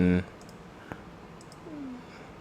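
A single sharp computer mouse click stands alone in a quiet room, just after a brief voice at the start.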